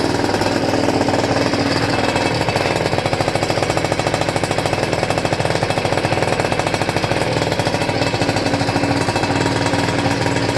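A Peugeot car engine idles loudly and steadily with a rapid, even mechanical rattle, close up and running continuously with no talking.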